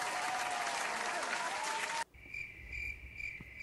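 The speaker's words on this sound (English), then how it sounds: "Everyone give him a round of applause." A game-show audience bursts into dense, steady applause for about two seconds, which cuts off abruptly into near-silence broken by a thin high electronic tone.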